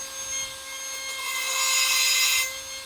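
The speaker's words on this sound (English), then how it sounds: "Power deburr." A power deburring tool works on metal up close, a steady abrasive grinding hiss with a faint tonal whine that swells in the middle and then stops, for the homemade backhoe thumb on a John Deere 2025R tractor.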